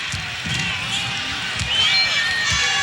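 Basketball arena crowd at an Arkansas vs Kentucky game, a steady broad roar of many voices filling the space, continuous and fairly loud, with a commentator talking over it.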